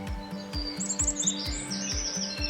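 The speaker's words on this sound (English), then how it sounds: "I love the chickadee's voice because you hear it in the spring, summer, and fall and winter." A chickadee calls in the outdoors, short high chirps and notes repeating near the listener over a rhythm of low rubbing or knocking thuds.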